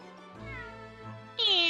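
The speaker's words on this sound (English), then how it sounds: "Clever cat." A pet cat in a house lets out a few soft meows while being handed food from the cat's meat man, followed by a louder, higher-pitched meow at the end.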